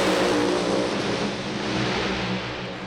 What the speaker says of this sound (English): Revs build, lights come on.